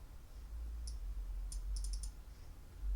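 Faint computer mouse clicks come at a desk, one single click and then a quick cluster of four or five clicks over a low steady hum.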